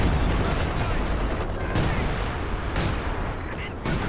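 In a Company of Heroes 2 match, an artillery barrage pounds down as a dense wash of heavy explosions and rumbling blasts, continuous and loud throughout with a few sharper cracks near the end.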